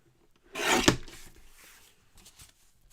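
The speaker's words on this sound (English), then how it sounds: "So I'm just going to trim my card down a little bit, I think." Craft card trimmed with a cutter, a single rasping slide about half a second long ending in a sharp snap, then softer scraping and faint handling noises, close by with no talk.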